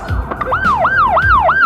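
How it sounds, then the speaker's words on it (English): An emergency vehicle siren wails loudly and close by, repeating rapid rising-and-falling yelps in a steady rhythm, with traffic rumble underneath. "when you hear a siren like that, whether it's coming from an ambulance, a fire truck, or a police cruiser"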